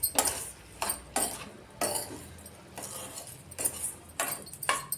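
A utensil stirs garlic, chilli and tomato softening in hot oil in a pan: a series of close scraping, clinking strokes at an uneven pace over a faint sizzle, with no talk.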